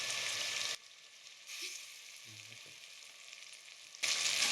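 Tomatoes and onions sizzle in a pan while being stirred, a steady close fry with brief quieter gaps and small clinks of stirring in between.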